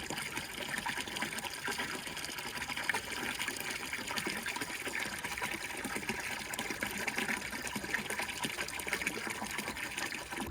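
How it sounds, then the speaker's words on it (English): Water flows steadily through the pipe of a 3D-printed hydroponics gate valve that is not sealing perfectly, a constant close hiss and gurgle that stays even throughout with no talking. "There's some water flowing through the pipe, which I'm guessing is from the valve not sealing perfectly."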